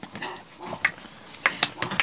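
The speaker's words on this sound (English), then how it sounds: "Yes, the small one is barking." A small dog gives a few high, sharp yaps, brief and scattered, with some muffled noise around them.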